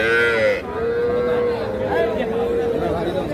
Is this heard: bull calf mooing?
yes